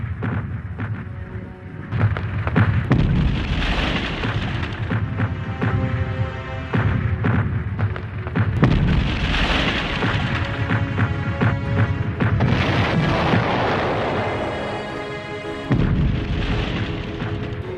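Artillery barrage from the 1916 Battle of Verdun: dense, continuous rumbling booms and heavy thuds rolling one into another, loud and sustained with no let-up.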